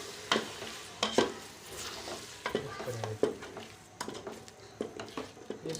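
Six eggs go into a cooking pot of peelu salan and are stirred in, with a spoon scraping and clinking against the pot in irregular strokes over a soft sizzle.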